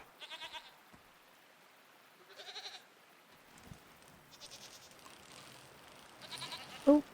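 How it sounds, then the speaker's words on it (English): Goat-like creature in the video game Seasons: A Letter to the Future bleating in several short nasal bursts spread across the clip, fairly quiet over a soft ambient background, with a slightly louder call near the end. "That would be a goat."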